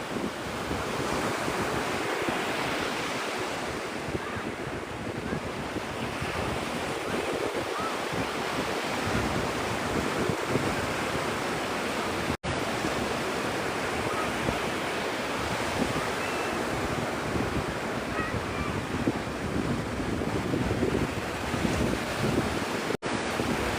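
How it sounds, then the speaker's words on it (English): Continuous ocean surf breaking on the beach at Opal Beach, Florida, a dense, steady wash of waves with light wind buffeting the microphone throughout and no talking. "The surf is perfect, not too much wind."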